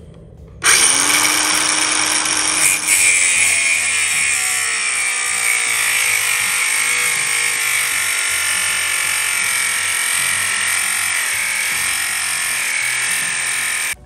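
A battery power tool cuts brass cartridge cases for 300 AAC Blackout reloading, giving a loud, steady high whine that holds unbroken for about thirteen seconds after a sharp start, close up, with no talking.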